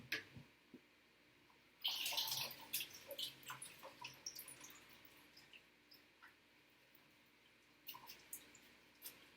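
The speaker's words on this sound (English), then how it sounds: "I'm just going to scoop that up, but then I can just drain the rest right off" Cooking water from a pot of broccoli is poured off into a sink, a sudden splashing gush followed by scattered drips and small trickles that fade, then a few more splashes near the end.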